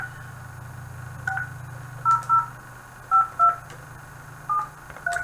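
A telephone number is dialed on a DTMF keypad: a series of short, distinct tone beeps in small irregular groups, with a low steady hum underneath.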